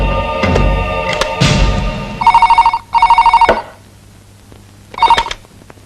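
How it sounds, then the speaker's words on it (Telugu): An old landline telephone rings in a Telugu film scene: a few thumps and clatters, then two long trilling bell bursts and a third shorter ring after a pause, loud and close. "నువ్వు జగన్నాథానికి ఫోన్ చేయరా."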